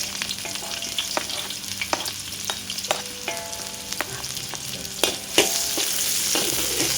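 Ingredients for rice vermicelli soup sizzle in hot oil in a pan while a utensil scrapes and taps against it at irregular intervals, close and steady, with no talking.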